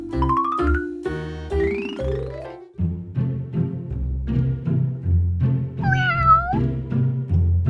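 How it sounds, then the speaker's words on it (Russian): A cat meows several times over tinkling, bell-like music; the meows rise and fall in pitch, loud and close. "Но Флэша это не малыш, Флэша это кошка"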